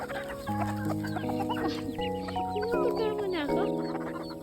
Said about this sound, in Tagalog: pakainin ang mga alagang hayop na manok at baboy